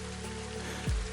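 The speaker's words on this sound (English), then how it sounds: "the rain had come in gently from the west, the way it so often did in the hollow" Gentle rain falls steadily on a surface in a rural hollow, a soft continuous patter at low level, with a brief low rumble near the end.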